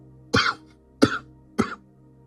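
A preacher imitates coughing during a sermon: three sharp, close coughs spaced about half a second apart, each a harsh burst with a brief tail, alone without speech.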